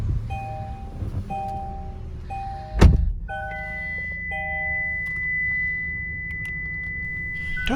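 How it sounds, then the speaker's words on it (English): A Kia car is started with a key emulator: soft chimes and electronic tones, a sharp cranking thud, then the engine settles into a low steady idle while a thin dashboard tone continues. "And start the car."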